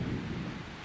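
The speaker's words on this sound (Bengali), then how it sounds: "দেখো কত জোরে মেঘ ডাকছে" A short, deep rumble of thunder rolls through during rain, heavy at first and then easing off, with no talking.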